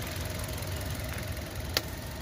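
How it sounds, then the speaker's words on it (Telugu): A car engine idling with the hood open during a pre-road-trip check, a low steady hum and faint rhythmic rumble continuing throughout, with a single sharp click near the end and no talking. "ఇప్పుడు ఇంజన్ రన్నింగ్లో ఉంది కాబట్టి తీయలేం మనం"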